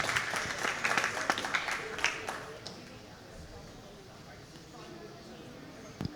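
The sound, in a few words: audience applause for lambs at sheep show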